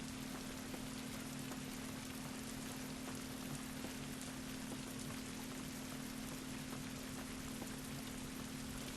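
Steady rain pouring in The Last of Us Remastered video game, a constant dense hiss of drops with a faint low hum underneath, unbroken and even throughout with no voices.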